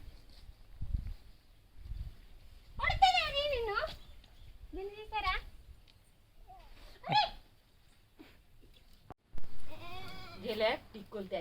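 A goat bleats in several separate wavering cries spread across the clip, fairly close, with quiet gaps and faint background noise between them.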